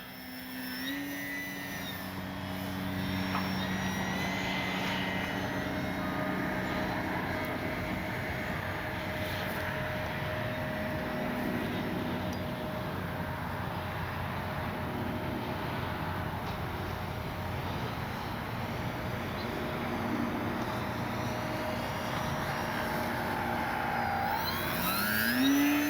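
An E-flite Sportix 1.1 m electric RC model plane whines steadily overhead during its maiden flight, a sustained motor drone that swells louder near the end as it passes close.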